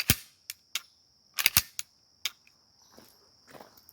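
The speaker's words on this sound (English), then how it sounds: "Rotate this back, bring that in, lock it, flip this, function test." A SIG P320 pistol being function-tested makes about seven sharp, close metallic clicks from slide and trigger at irregular intervals, with quiet pauses between and faint rattling near the end.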